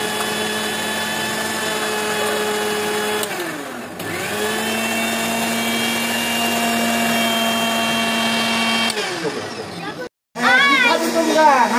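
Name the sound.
blender blending mint leaves with borhani spices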